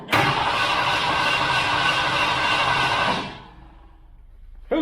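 Engine of an abandoned Ford parked for eleven years, cranking loudly and steadily for about three seconds, then cutting off into quiet, with a brief noise returning at the very end.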